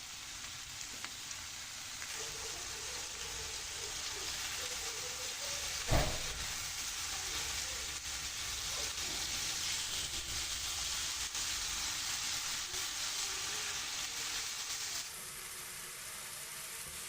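A tablespoon of butter sizzles in a frying pan over high heat, giving a steady dense crackle throughout, with one brief knock near the middle and no voices.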